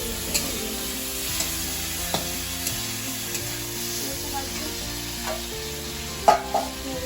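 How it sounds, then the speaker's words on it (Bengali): Vegetables fry in a pan with a steady, moderate sizzle and a few sharp clinks of stirring, heard beneath continuous background music. "লাল লাল করে ভাজবো, ভেজে আমরা সবজি"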